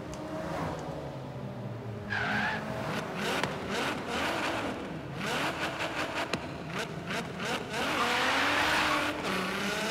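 In Forza Horizon 3, a car engine revs hard and rises and falls in pitch while the tires squeal and skid; loud and close, it runs continuously through the clip with no talking.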